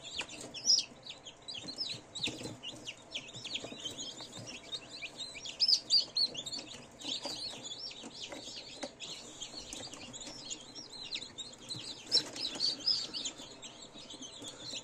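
Newly hatched chicks in an incubator, including Marans, peeping constantly in a busy high-pitched chorus, close and fairly quiet, with occasional louder bursts of chirping.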